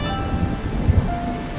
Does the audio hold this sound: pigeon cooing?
no